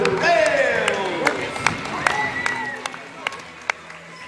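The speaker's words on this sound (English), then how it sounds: "A round of applause for your Proctor Rails." A crowd at a boys' high school basketball game applauds for the Proctor Rails team, scattered claps and cheering in a gym with talking voices over it and a few sharp isolated claps toward the end.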